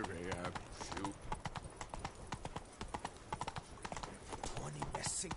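A horse trots in a PS4 video game, with rapid, steady clip-clop hoofbeats repeating close and clear throughout, alongside game background sound.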